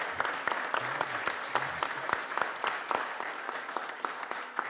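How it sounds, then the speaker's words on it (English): Audience at a city council candidate forum applauds steadily, a dense patter of clapping from a moderately distant crowd with a few louder individual claps and faint voices beneath. "let's give our candidates, a big round of applause."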